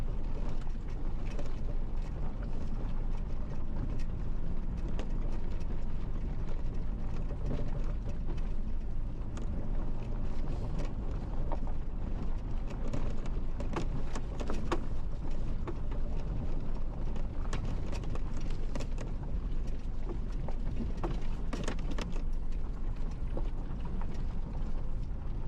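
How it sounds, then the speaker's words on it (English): A car shaking and rattling over a rough, remote road, with a steady broadband rumble and wind-like roar throughout, loose items bouncing in occasional sharper clatters. "The road surface shakes the car considerably, and anything loose in the vehicle is likely to bounce around."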